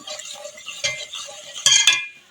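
Custard powder being stirred into boiled, sweetened milk in a pot: a utensil scrapes and clinks against the pan in short strokes, with a couple of sharper knocks near the end and no talking.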